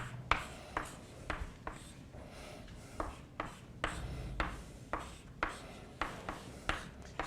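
Chalk or marker strokes on a board in a lecture hall produce a series of sharp, regular taps and scrapes, about a dozen crisp hits spaced roughly half a second apart over a faint room hum.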